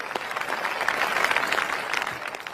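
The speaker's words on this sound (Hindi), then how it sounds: "श्री नथुराम जी और एडवोकेट लखन सिंह जी का जोरदार तालियां बजाकर स्वागत कीजिए" A crowd at a village wrestling competition claps to welcome arriving guests, a short burst of brisk, fairly dense applause at moderate distance.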